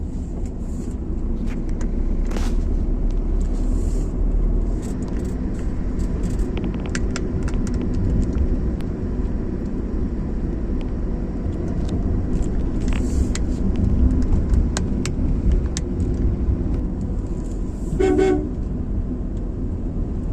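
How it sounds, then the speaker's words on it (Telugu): A heavy lorry labours up a winding ghat road through the Nallamala forest, its engine rumbling low and steady throughout, with a couple of short horn toots and passing traffic noise around it. "లారీ ఎక్కలేక"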